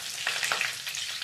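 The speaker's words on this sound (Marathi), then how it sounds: "मोहरी टाकून लसणाच्या 2 पाकळ्या घेतलेले" Mustard seeds and two garlic cloves crackle and fry in hot oil, with a steady close sizzle and faint popping throughout.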